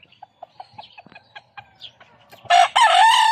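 A golden gamefowl rooster crows loudly and close by in a coop, a strong drawn-out call near the end that follows a series of short soft clucks and scattered small taps.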